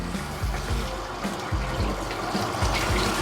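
Water from a shower head runs steadily at a gentle, softened pressure while a Bichon Frise is bathed, a continuous close hiss with low sloshing pulses and no talk.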